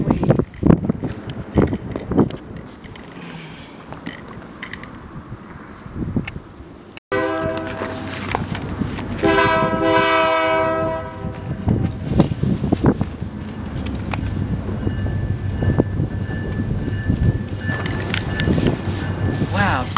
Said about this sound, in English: Wow, that was a loud train?